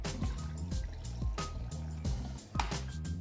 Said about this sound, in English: I can hear the sound of water coming in